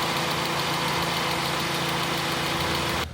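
A 2006 Toyota Altis 1.6 liter engine idling, a steady close-up hum with an even low-pitched pulse, loud and continuous with no talking.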